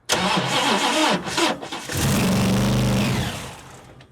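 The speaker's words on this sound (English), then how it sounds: "She started and stalled, just like the instructions said." An extreme street car engine cranks and fires, roaring loud and close for a couple of seconds before dying away as it stalls, with no talking.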